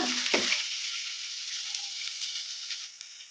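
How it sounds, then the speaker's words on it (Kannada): Curry leaves and potatoes frying in a pan for a potato and fenugreek fry, a brief sharp crackle at the start settling into a steady, soft hissing sizzle, no speech. "ಕಲಿಸ್ಕೊಂಬಿಡೋಣ. 2 ನಿಮಿಷ ಫ್ರೈ ಮಾಡ್ಕೊಂಬಿಡೋಣ."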